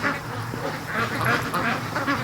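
Free-range ducks quack in a loose, repeated series as they come back to the pen, with a steady mid-distance chorus of calls and no talking over them.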